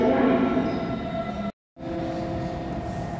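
An S-Bahn train pulls into a Munich station platform with a steady, fairly loud rolling rumble and tonal hum, briefly cut by a moment of silence before the sound resumes.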